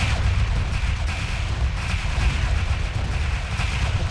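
A bomber fires on a resource collector in Homeworld Remastered, producing a dense, continuous rumble of rapid weapon fire and impacts that stays loud and steady throughout.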